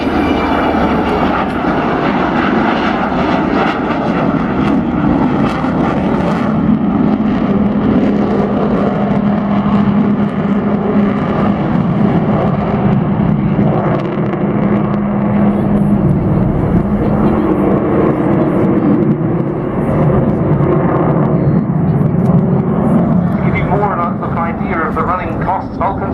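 An Avro Vulcan jet bomber flies at an air display at Waddington, its steady, loud engine roar filling the whole stretch while a voice talks over it.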